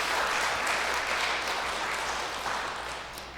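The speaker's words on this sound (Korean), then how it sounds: "우리 건강하시라고 박수하겠습니다." A church congregation at a Sunday morning service claps for a returning member, a dense, sustained round of applause from many hands that fills the room and tapers slightly toward the end.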